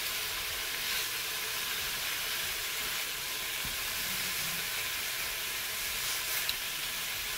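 Beef pieces brown in a hot Cookeo multicooker pot, giving a steady, even hiss of sizzling fat that stays constant and close throughout, with no voices over it.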